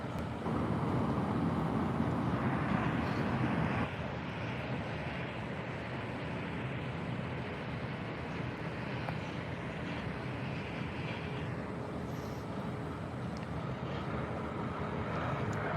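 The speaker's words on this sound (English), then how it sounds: "Got this big American 777-200. Wherever it is, there it is. Taxiing out for departure on runway 25 right in just a few moments." An American Airlines Boeing 777-200 taxiing for departure at LAX gives off a steady, broad, distant jet roar with a louder stretch at the start, softened by wind and outdoor ambience.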